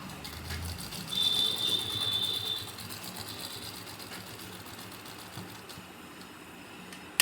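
A sewing machine runs in a steady, close mechanical whir as it stitches along the edge of a pocket on a ladies' kurti, with no voices over it.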